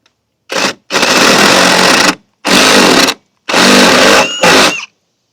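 Power drill enlarging a hole to 1 inch, heard as four separate bursts of loud, close grinding and whirring with short pauses between them, the last burst dipping briefly before stopping.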